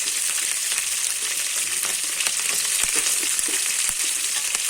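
Green chillies fry in hot oil as tempering for plain chitranna, a dense continuous hiss and crackle at close range, with a few small clicks of stirring and no talk.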